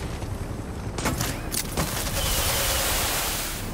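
Fireworks launched at an enemy helicopter in the video game Far Cry 6, heard as a dense burst of crackling bangs and broadband noise that builds after the first second and holds steady to the end.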